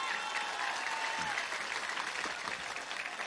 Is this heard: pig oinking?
no